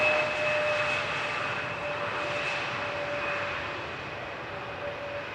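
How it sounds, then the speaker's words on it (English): A KLM airliner landing on runway 18R at Amsterdam Schiphol, a broad distant jet roar with a steady whine tone that fades slowly, heard alone with no talk. "Now here is a typical KLM landing."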